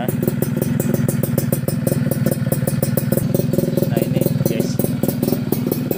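A restored 2004 Yamaha F1ZR two-stroke motorcycle idles nearby with a steady, crisp, rapid putter that keeps up throughout. Someone says a few words briefly over the engine.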